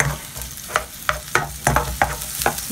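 Onion, garlic and beef being sautéed in a pan for string beans con carne: steady close sizzling under a series of sharp, regularly spaced scrapes and stirs of a utensil against the pan, with no talk.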